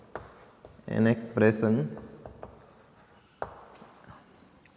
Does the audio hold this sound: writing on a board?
yes